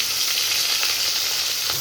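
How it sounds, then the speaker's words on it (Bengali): Fish pieces frying in hot oil in a pan give a steady, dense sizzle with faint crackles throughout, close and fairly loud with no talking. "মাছগুলো উল্টে দিয়েছি মাছগুলো ভাজা হয়ে গেছে"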